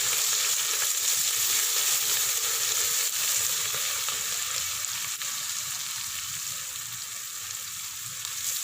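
Ginger garlic paste fries with lightly browned onions for a Punjabi-style mixed vegetable dish, giving a continuous bright crackling sizzle, close and even, that eases slightly over time with no speech.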